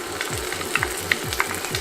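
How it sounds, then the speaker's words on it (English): Ginger garlic paste frying with onions in a pan for fenugreek meatball curry: a steady close sizzle with light stirring clicks and a low hum beneath. "now I'm going to add in the ginger and garlic paste."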